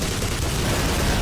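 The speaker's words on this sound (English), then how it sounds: "That was quite the explosion." Explosion in the Black Mesa game, heard as a loud, dense burst of crackling, booming noise that fills the whole short stretch without letup and with no voices.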